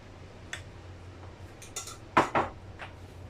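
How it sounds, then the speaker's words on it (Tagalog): Utensil clinking and scraping in a bowl while creamy cabbage salad dressing is mixed with salt and pepper, a few sharp close taps and scrapes over a quiet room. "So, ngayon, syempre, halo-haloin natin yan."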